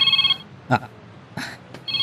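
A cellphone rings in an indoor drama scene, its steady high electronic ring tone sounding at the start and again near the end of the moment, separated by brief knocks and rustling.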